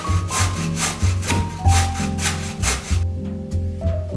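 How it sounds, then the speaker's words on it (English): A carrot is grated on a grater in quick rhythmic scraping strokes that sound up close, while faint music plays underneath. "Let's do the carrot next. Grating works best here too."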